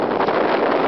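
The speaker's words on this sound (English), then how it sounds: "Wind gusts over 50 miles an hour." Blizzard wind gusts topping 50 mph roar at Bondurant High School in Bondurant, Iowa, a loud, steady broadband rush buffeting the microphone without a break.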